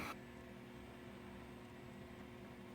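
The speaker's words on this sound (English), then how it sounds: "Sorry about the fan running right next to me." An electric fan runs right next to the microphone with a steady, even whooshing hum and no other sound.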